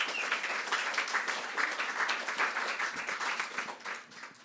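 Audience applause at an evening meditation and music gathering, a dense steady wash of many hands clapping throughout, easing slightly toward the end.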